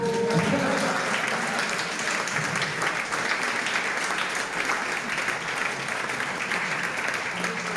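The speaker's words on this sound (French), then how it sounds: "Donc vous pouvez nous applaudir." Applause fills a celebration marking a 40th anniversary, a continuous, even roar of many people clapping at close range, with faint voices mixed in at the start.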